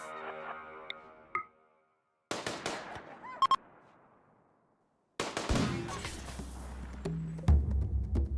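Gunfire from combat against wargs in the video game RimWorld, heard as sharp bursts of shots separated by near-silent gaps, then a louder stretch of rapid fire and impacts toward the end.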